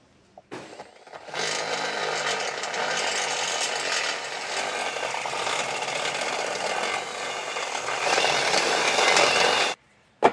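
A 1 3/8 step bit grinds steadily through a bumper weld on a 2025 Tesla during a hidden hitch receiver install, loud and close for about eight seconds, then stops abruptly; no talk.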